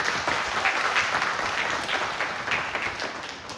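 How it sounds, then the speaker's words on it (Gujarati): An audience at a Shri Krishna Leela Katha religious discourse in Junagadh applauds in a steady, dense wash of clapping that fades slightly toward the end, with no voices over it. "એકવાર રામીવાડી સમાજ જુનાગઢ માટે આપણે જોરદાર તાળીઓ કરીએ."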